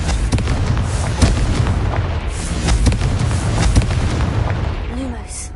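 Confringo blasting spell explosions in Hogwarts Legacy produce loud, booming bursts in a fantasy castle setting, with a player speaking over the rumbling blasts.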